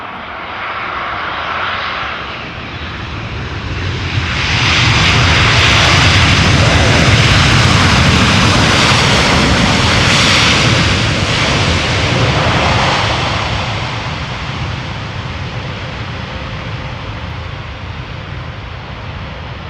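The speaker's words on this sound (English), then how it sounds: "Finally a little bit of reverser action." A Mexican airliner landing at Amsterdam Schiphol, its engine noise swelling into a loud, broad roar of thrust reversers for several seconds, then gradually fading.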